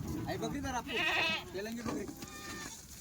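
Kathiawari dairy goats bleat in a few wavering calls at a livestock sale, with someone talking over and between them.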